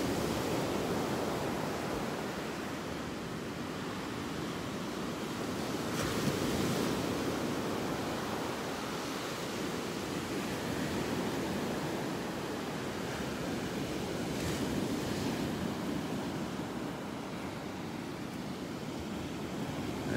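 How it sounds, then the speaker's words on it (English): Ocean waves wash steadily onto Delnor-Wiggins beach, a continuous rolling surf with gentle swells in loudness and some wind, no voices. "The sounds of the waves are just awesome."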